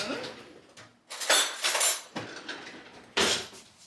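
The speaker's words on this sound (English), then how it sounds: "and then just simply scoop that out of here into my salad." A spoon scrapes and scoops avocado chunks into a salad bowl, giving several short bursts of clattering and scraping against the dish, close and fairly loud, separated by brief pauses.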